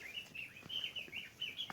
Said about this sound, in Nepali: चराहरू कराइरहेका छन्।